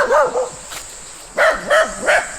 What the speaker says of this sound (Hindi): मेरे कुत्ते यहाँ हैं।